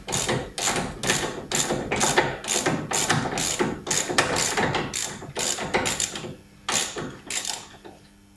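A ratchet wrench works a seized car stabilizer link nut, giving a rapid run of loud, close clicking strokes that pause briefly near the end before a few final clicks.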